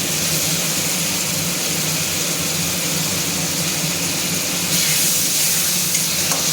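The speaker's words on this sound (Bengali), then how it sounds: "এবার মশলাটাকে ভালো করে কষিয়ে নিতে যতক্ষণ পর্যন্ত না মশলার তেলটা বেরোয়" Spice paste with a little sugar fries in oil in a pan, a continuous dense close sizzle with soft stirring, steady and fairly loud.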